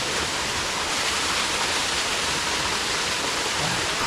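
Dodd Creek waterfall cascading over quartzite rock, a steady broadband rush of falling water close by, constant and unbroken with no voices.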